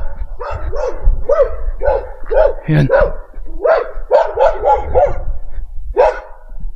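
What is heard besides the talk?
dog barking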